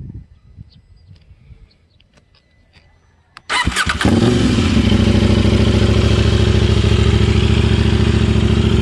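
A KTM 790 Duke engine fitted with an Orion muffler and silencer cranks and fires after a few quiet seconds of faint clatter, then settles into a loud, steady, muffled idle close by.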